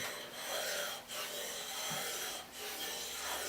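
A paper-cutting blade is pushed hard away and pulled back across a sharpening stone, giving a steady rasping scrape in long strokes with short pauses between them.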